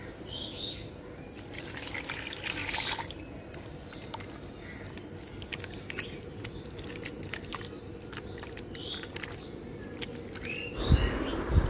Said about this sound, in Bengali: এই যে এখন আমটা আমি ভালোভাবে ধুয়ে নিই।